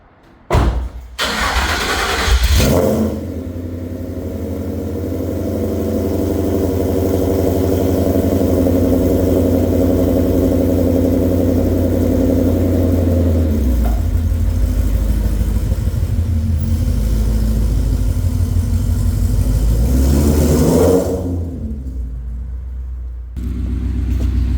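A car engine cranks and catches, then settles into a steady, loud rumbling run as the car pulls away, the sound dropping off near the end.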